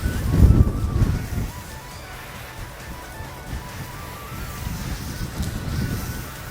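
Water sprays over a car body to rinse off an oil-repelling coating shampoo, a rough broadband wash that starts with a heavier low splash and then settles into a steadier, gusty outdoor rush.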